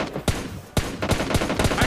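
Rapid gunfire in a shooting video game, several sharp, loud shots in quick succession, some clustered in bursts with brief gaps, close and without talking.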